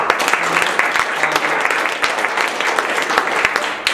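Audience applause after a talk on building a more sustainable and just food system, steady dense clapping from a crowd filling the whole stretch, with a little talk underneath.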